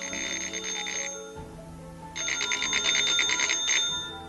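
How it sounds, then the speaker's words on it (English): An unusual telephone rings in two bursts of rapid, trilling bell-like tones, loud and near with a short pause between, no voices. "The sound of a telephone made him stop in his tracks."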